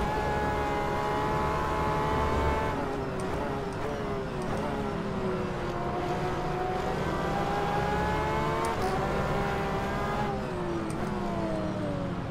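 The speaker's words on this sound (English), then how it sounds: "We have a Corvette and BMW battling right up there." Corvette and BMW race cars battling in the rFactor 2 racing game, engines roaring continuously with rising and falling revs and gear shifts, loud and close throughout.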